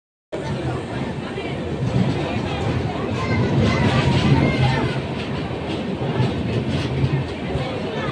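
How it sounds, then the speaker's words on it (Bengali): The Kanchankanya Express rolls into platform three of a station with a loud steady rumble and rattle of wagons, while a crowd chatters in the background throughout. "নিজের উপস্থিতি জানিয়ে তিন নম্বর প্ল্যাটফর্মে প্রবেশ করছে কাঞ্চনকন্যা এক্সপ্রেস"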